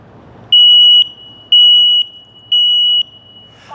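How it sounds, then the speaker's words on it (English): A combined smoke and carbon monoxide detector is set off during a test. It gives three loud, piercing, evenly spaced beeps of about half a second each, very close, in an otherwise quiet room. "So we're gonna sound this one here off so you can kind of hear what it sounds like."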